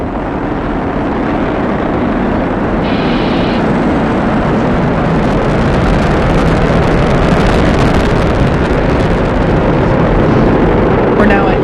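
SpaceX Falcon 9 rocket on a crewed launch, its nine Merlin 1D first-stage engines producing a loud, continuous, broadband roar with rumbling crackle that holds steady throughout.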